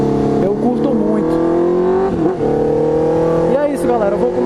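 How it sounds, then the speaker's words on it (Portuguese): A Honda CB 650F motorcycle fitted with a Jeskap GP2 R exhaust rumbles loudly and close, its engine note rising and falling in several throttle blips over a steady idle. "E o ronco dessa moto tá lindo demais."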